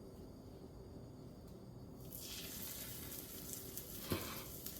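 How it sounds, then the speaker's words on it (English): A slider patty sears in a hot pan, its steady sizzling frying noise swelling once the meat hits the surface and continuing loud and close, with a brief sharper crackle near the end. "We'll go ahead and drop our first patty in"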